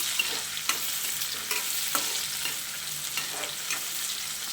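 Finely chopped tomatoes sautéing briefly in a pan for a Konkani bean curry, giving a gentle steady sizzle with a few soft spatula clicks and stirs, close by and with no voices.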